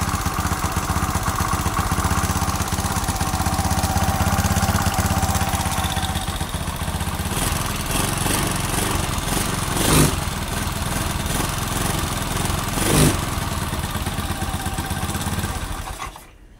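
A Honda Beat carbureted motorcycle with direct battery wiring and a 4-pin CDI idles close by after starting, a steady loud putter with two brief sharp blips partway through before it shuts off.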